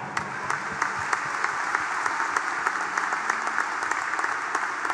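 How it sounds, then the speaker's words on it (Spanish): Sustained applause from a crowd at an Assumption feast Mass in San Juan de los Lagos, steady dense clapping throughout with a few sharper individual claps standing out. "Damos un fuerte aplauso."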